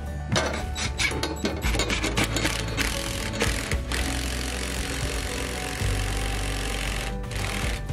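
Power drill driving large screws into closet shelf brackets, a loud whirring buzz with stuttering bursts early on, then a sustained grinding run, pausing briefly near the end before resuming.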